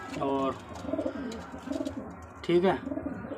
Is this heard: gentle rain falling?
no